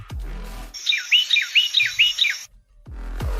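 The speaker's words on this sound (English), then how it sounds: "That right there is a Carolina Wyren." Carolina wren song: a loud, close run of about six rapid repeated whistled phrases in a rolling rhythm, heard clearly on its own between brief stretches of low background noise.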